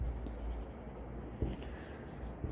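Marker or chalk writing on a board in a lecture, a continuous low scratchy scraping with a couple of sharper taps, close and fairly quiet, with no voices.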